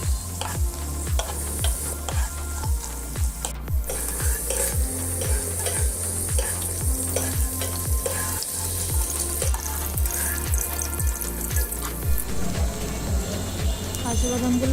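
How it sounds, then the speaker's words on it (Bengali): Cashew nuts fry in oil in a pan over low heat, giving a constant close sizzle broken by steady, regular scraping strokes as they are stirred. "এদিকে একটা প্যানে তেল নিয়ে তাতে আমি কাজু বাদামগুলো ভেজে নিচ্ছি"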